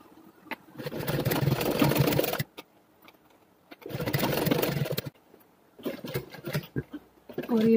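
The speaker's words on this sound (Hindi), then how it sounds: "यहाँ से शुरू कीजिए सिलाई लगाना।" A sewing machine stitches seams on a fabric pen-pencil pouch in two steady, close bursts, each lasting a second or two, with quiet pauses between them and some handling noise and a voice near the end.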